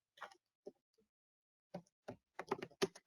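Scattered keystrokes on a computer keyboard while Java code is entered, a few isolated taps followed by a quicker cluster of clicks near the end, close and clear with no talking.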